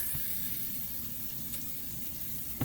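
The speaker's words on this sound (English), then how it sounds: "Okay, so I got the faucet on." Water runs from a newly installed bathroom faucet in a mobile home, a steady soft hiss of flow into the sink that holds even and fairly faint from start to finish.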